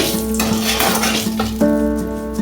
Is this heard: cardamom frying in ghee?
yes